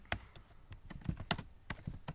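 Keys on a computer keyboard tapped out as a variable name is entered in Scratch, a run of about a dozen crisp, uneven clicks over two seconds, close and moderately quiet with no talking.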